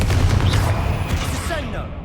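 A Confringo fire spell cast in combat in Hogwarts Legacy bursts as a loud, dense blast, with booming low rumble and crackling mid-range layered over continuous battle noise and spoken voices.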